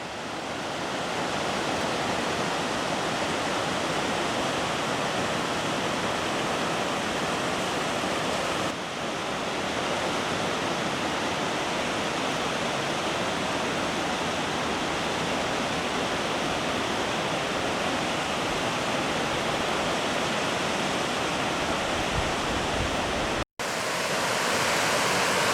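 A continuous, full-bodied rush of the Youghiogheny River near Ohiopyle, heard from a trail above the water near a railroad trestle; the flow holds steady and fairly loud throughout, with no talking.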